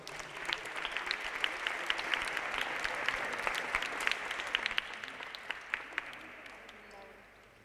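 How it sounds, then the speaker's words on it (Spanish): Applause at a chess tournament trophy ceremony in a sports hall, with sharp individual claps from a modest crowd swelling and then gradually thinning out toward the end. "Un aplauso."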